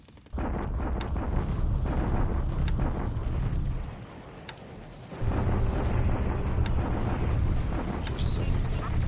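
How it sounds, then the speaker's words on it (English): Naval bombardment in the War in the Pacific strategy game sounds as heavy rumbling blasts, a sustained barrage that dips briefly midway then resumes, loud and booming with sharp clicks over it. "Just some bombardments here"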